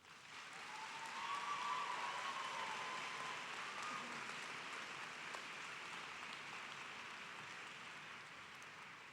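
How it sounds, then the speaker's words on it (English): Faint, steady applause from a large crowd at a 2007 afternoon commencement ceremony, a dense, even wash of clapping heard from a distance that holds for about nine seconds. "Why don't you give them a round of applause now?"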